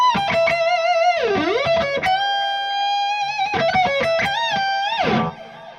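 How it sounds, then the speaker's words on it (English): Guitar delay pedal running into a reverb pedal, repeating sustained notes smeared into a dense, swelling wall of sound with pitch-bending swoops, loud and continuous before cutting off near the end. "you get this lovely wall of sound that, again, is the delay feeding the reverb"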